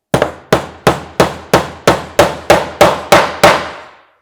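Hammer strikes drive a nail into a wooden planter box: ten sharp, evenly spaced blows close by, each ringing briefly before the next.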